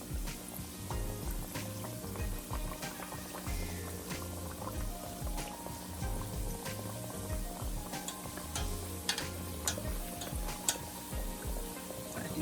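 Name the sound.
Jamaican fried dumplings frying in a pot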